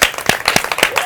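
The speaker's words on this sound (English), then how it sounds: "give a hand of applause to Sidea" A few people clap close by in uneven, sharp bursts of audience applause, several distinct hand claps standing out over a brief moment.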